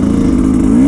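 Close, steady engine drone of a new 2023 Sherco 300 SC Factory trial motorcycle pulling away over its first metres, a continuous mid-pitched hum with a slight rising tone and no talking.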